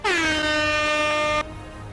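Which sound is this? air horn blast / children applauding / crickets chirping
air horn blast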